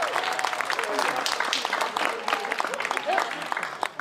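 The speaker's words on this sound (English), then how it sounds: "Let's give a round of applause to all these amazing folks that make this happen" Audience applause at a Creative Mornings Tucson gathering for the event's volunteers, brisk clapping with distinct sharp claps and voices talking over it.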